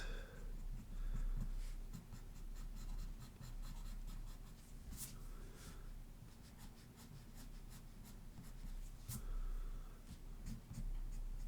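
A pencil sketches a mouth on paper in close, quiet scratchy strokes, with short lines and a few sharper ticks over a steady low hum, and no voices.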